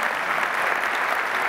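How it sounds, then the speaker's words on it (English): Conference audience applauding a plenary speaker at an investment conference, a dense, even wash of clapping from a large crowd, loud and unbroken. "But we'll have a little applause."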